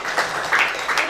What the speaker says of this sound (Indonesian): Berikan tepuk tangan yuk.